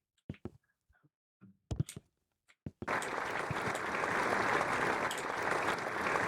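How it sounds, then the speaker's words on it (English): Scattered short clicks and taps, then a sudden burst of sustained crowd applause and cheering in the video game Moral Dilemma: The Interview that continues steadily to the end. "Applause, applause"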